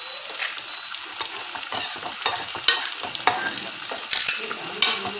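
Fresh coriander leaves tossed in a hot pan: a bright, steady sizzle with intermittent scraping stirs and a few louder clatters, close and uninterrupted by speech.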